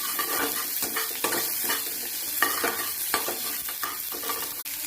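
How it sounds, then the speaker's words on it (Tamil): Small shallots frying with curry leaves in a pan, a close continuous sizzle with frequent stirring scrapes and clinks, steady and fairly loud throughout. "சின்ன வெங்காயம் வந்து நல்லா ப்ரௌனிஷ் ஆகிற மட்டுக்கும் நம்ம ஃப்ரை பண்ணிக்குவோம்."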